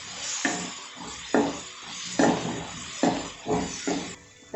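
Brinjal sautéing in a pan for fish curry sizzles softly under a series of scraping stirs that come in roughly regular strokes, close and fairly quiet.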